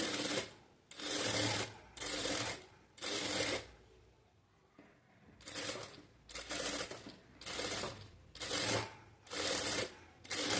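Sewing machine stitching a blouse neckline in a tailoring class, running in close, loud bursts of rapid stitching, four runs, a quiet pause, then six more short runs.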